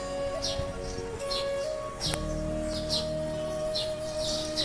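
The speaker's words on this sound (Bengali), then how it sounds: "দেখো কত রকম পাখির আওয়াজ শোনা যাচ্ছে" Several small birds chirp and tweet in short bursts throughout, heard from a veranda under a cloudy sky, over a faint steady hum, with one sharp clink midway.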